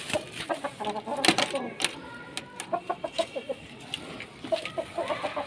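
Chickens clucking nearby in a steady series of short, repeated clucks, with a few louder squawks early on and faint background noise.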